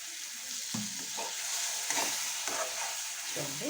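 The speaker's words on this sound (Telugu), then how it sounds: "ఈ గ్రేవీ కూడా పచ్చివాసన పోయేంత వరకు కొంచెం ఫ్రై చేయాలి" Gravy for banana flower curry fries in a pan with a constant close hiss, broken by a few soft stirring scrapes and gentle bubbling, heard alone without speech.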